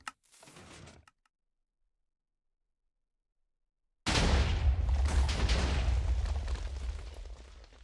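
Missiles strike a tank in Minecraft. A brief burst at the start, a few seconds of silence, then a long, loud roaring explosion with heavy low rumble that slowly fades.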